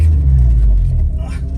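A K-swapped Honda Civic sleeper's engine rumbles loud and close with a steady low drone, easing slightly toward the end; a voice can be heard faintly over it.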